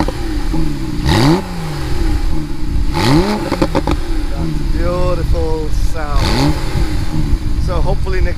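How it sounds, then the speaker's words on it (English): A 2018 Porsche 911 Carrera GTS (991.2) sits idling loudly up close, its engine rising in three sharp revs that swoop up and fall back, while someone speaks over the sound. "you can rev it up a little bit"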